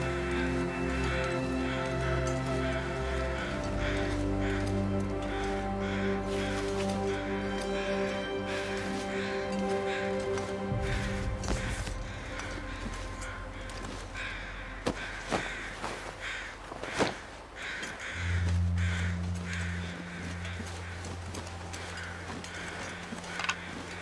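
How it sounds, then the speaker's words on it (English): Crows cawing in The Long Dark survival game, repeated harsh calls over a steady layer of wind and game ambience with shifting tonal drones, no talking. "let's go see what these crows are"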